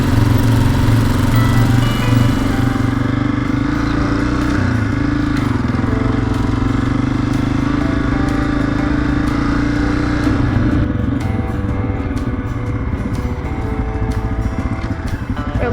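A small Honda XR15 motorbike engine runs steadily and loudly up close, a dense continuous drone with constant low rumble, with faint talk mixed beneath it.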